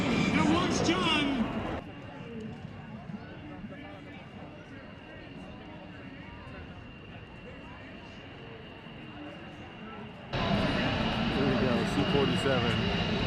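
A T-28 Trojan piston warplane roars past at an airshow, loud at the start, dropping away to a distant drone, then surging back strongly near the end, with a voice speaking over it.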